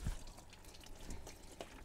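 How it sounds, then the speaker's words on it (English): Radiator coolant drains from the open plug of a 1998–2004 Nissan Frontier, splashing off the splash guard into a drain pan, a faint, close trickle with a few soft drips and splats. "So we just let it drain out."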